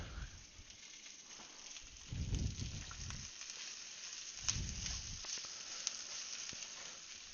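Rice toasting in oil in a pan for fried rice makes a soft, steady sizzle, swelling twice into louder crackling bursts before settling again.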